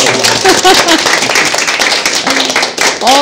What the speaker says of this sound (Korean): 이 대목에서 저희가 박수 한번 칠까요?